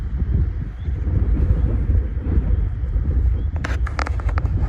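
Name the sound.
strong wind blowing outdoors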